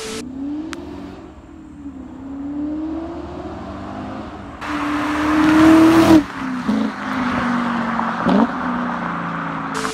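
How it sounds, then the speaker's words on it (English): A BMW E39 M5 with a muffler delete idles with a deep burble, then revs hard in a loud, raspy climb before settling back, the exhaust close and unaccompanied by talk. "I'll put a quick clip in for you real quick so you know, you guys can understand how good this thing sounds with just a muffler delete"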